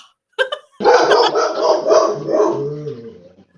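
A roughly 13-year-old dog barks at a vintage sale, a sharp close bark followed by a longer run of loud, rough barking and growly yapping that fills most of the moment before fading.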